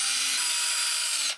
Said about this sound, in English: You're just going to go down in here like this and drill a hole.